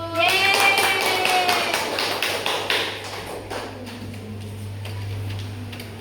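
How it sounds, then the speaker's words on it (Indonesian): Schoolchildren clap together in a classroom during a lesson on the solar system, a run of sharp, close, rhythmic claps. Voices talk over the start and the claps thin out toward the end. "Nah, tepuk tangan dulu."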